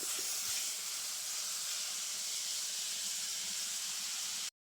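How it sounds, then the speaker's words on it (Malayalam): Sliced onions sauté in a pan until lightly browned for beef varattiyathu, a steady, loud, even sizzle that continues throughout and then cuts off abruptly. "അപ്പം നമ്മുടെ സവാളയൊക്കെ നന്നായിട്ട് വഴന്ന് വന്നിട്ടുണ്ട്, ചെറിയൊരു ബ്രൗൺ കളറിലേക്കൊക്കെ വന്നിട്ടുണ്ട് കേട്ടോ."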